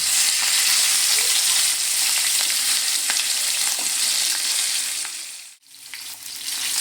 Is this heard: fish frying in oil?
yes